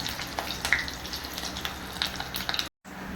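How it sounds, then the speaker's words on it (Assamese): Raw banana kofta balls frying in hot oil, a close, continuous crackling sizzle with small pops, then a brief silence near the end. "এনেকৈ মই গোটেইকেইটা কোফতা ভাজি ল'লোঁ।"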